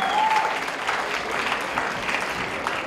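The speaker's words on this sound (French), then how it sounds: "Le Predator, on l'applaudit très fort" A large convention audience applauds a performer on stage, dense continuous clapping that holds steady throughout, with a brief whistle at the start and faint voices mixed into the crowd.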